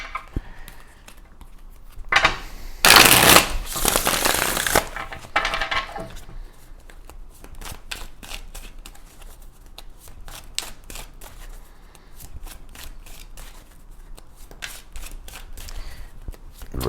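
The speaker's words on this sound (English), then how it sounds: "Let's go ahead and pull your tarot cards." Tarot cards being shuffled, a dense burst of riffling and flicking that swells loudly for a few seconds, then continues as lighter, scattered card slaps and taps close by with no talking.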